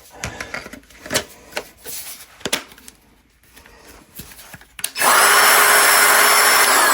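A HERCULES 20V cordless drywall cut-out tool makes scattered clicks and handling knocks, then switches on into a loud, steady, high-pitched motor whine that holds to the end, close up.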